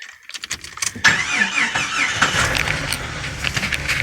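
A Jeep engine cranks and catches, then runs with a rough rumble and a high squeal over it.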